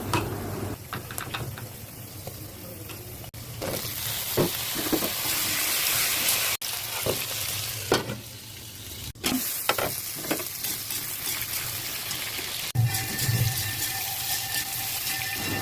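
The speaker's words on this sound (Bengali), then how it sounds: "আলু লবণ হলুদ দিয়ে কিছুক্ষণ ভেজে এরপর পটলও ভেজে নেব।" Potatoes fry in hot oil with salt, turmeric and whole spices such as bay leaf, cardamom and panch phoron, giving a steady close sizzle broken by stirring scrapes and clinks throughout, with no talk.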